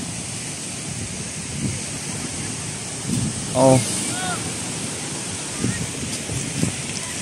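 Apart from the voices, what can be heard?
ocean waves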